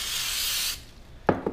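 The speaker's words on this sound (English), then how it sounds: "I'm just gonna take some of this goof off and I spray it" A short hissing burst of Goof Off cleaner sprayed onto a sticky spot, lasting under a second, followed by a couple of faint knocks.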